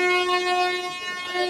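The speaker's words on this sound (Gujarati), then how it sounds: "હા ટ્રેન ઉપડી ગઈ છે" A train horn sounds at a station in Valsad as the train pulls away, a sustained, loud, steady tone holding for the whole moment with no talk over it.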